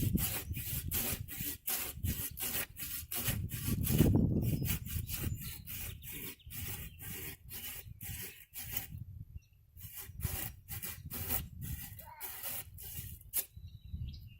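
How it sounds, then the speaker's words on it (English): Hand saw cutting through a wild pear tree branch with light strokes, a close, rhythmic rasping back and forth that pauses briefly midway, then resumes at the same steady pace. "I'm going to cut below this large branch that I cut off here"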